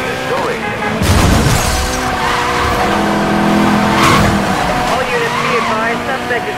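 In Need for Speed Most Wanted (2012), race cars roar and squeal their tires through a continuous loud engine drone, with crash-like hits and radio voices on top.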